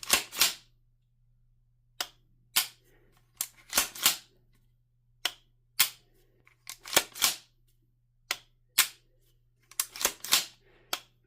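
AR9 pistol-caliber carbine with an Atrius super selector and Glock magazine conversion block, firing sharp close gunshots in single shots, quick pairs and short bursts separated by pauses, over a steady low hum.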